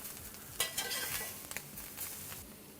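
Hash browns sizzle quietly in a pan while a spatula scrapes and taps a few times as they are flipped; no one speaks.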